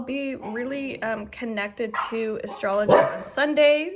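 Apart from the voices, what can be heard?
puppy barking in the background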